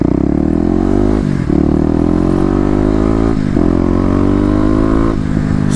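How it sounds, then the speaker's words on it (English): A Kawasaki KLX250 motorcycle engine revs hard and loud, its pitch climbing steadily then dropping briefly at each of three gear shifts as the bike pulls through the gears. "we are back out on the KLX"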